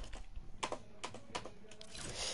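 Someone types on a new computer keyboard during a gaming livestream, quick uneven key clicks with a few sharper strikes, close and fairly quiet, no speech.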